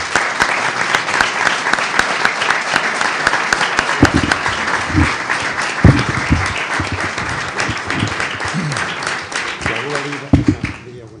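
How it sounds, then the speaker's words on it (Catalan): Close, loud applause from a gathered audience at a book presentation, with steady dense clapping interspersed with a few sharper nearby claps and some voices murmuring toward the end. "El meu aplaudiment te'l dedique."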